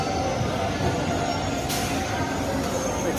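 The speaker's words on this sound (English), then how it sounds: "Our train is here." A train pulls into an Indian railway station with a steady loud rolling rumble and a brief metallic hiss midway, heard close on the platform.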